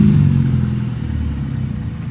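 A Honda Civic EK9 engine runs loud and close with a steady low rumble that eases slightly after an initial rev, all mid-range mechanical drone without any voices.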